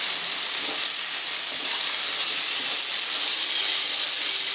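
Potatoes frying in a pan, a loud, dense, continuous sizzle and hiss with no pauses and no talking.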